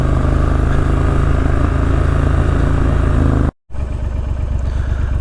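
A motorcycle on a mountain ride roars loudly and steadily up close, cuts out in a brief gap, then resumes with a rougher, pulsing engine note.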